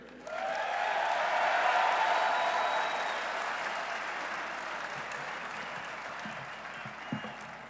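Applause from a press-conference audience welcoming a university athletic director swells quickly and holds as steady, moderately distant clapping before tapering off toward the end.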